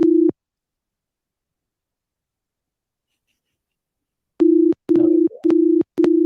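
Phone call tone with the feel of dialing an international number: one short beep, a long silence, then a run of four steady, loud, evenly spaced beeps.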